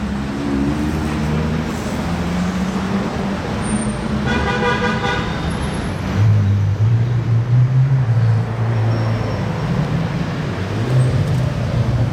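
A McLaren Senna drives through Monaco streets with a deep engine rumble that swells later, mixed with surrounding traffic noise and a brief horn-like toot, with no voices.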